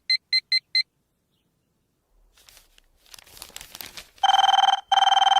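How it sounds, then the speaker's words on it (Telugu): A telephone in a comedy film scene gives four quick electronic beeps, then some rustling and crinkling, then two loud, sustained tonal rings separated by a short gap. "అబ్బా, ఈ ఫోన్ చంపేస్తున్నా"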